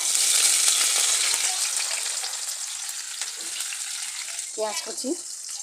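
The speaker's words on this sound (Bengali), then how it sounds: "এবার ওই তেলের মধ্যে আমি দিয়ে দিব পেঁয়াজ কুচি" Chopped onion hits hot oil, previously used to fry papaya kofta balls, with a loud, steady, close sizzle throughout, easing slightly over time while a short voice briefly sounds near the end.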